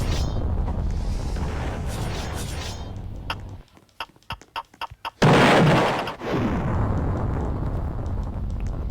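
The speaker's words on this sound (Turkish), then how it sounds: "Tamam dur abi şurası da patladı. İki tane bomba." Loud explosions in a Roblox game boom out, with a burst of sharp pops and blasts in the middle, then a big roaring blast that fades into rumbling noise.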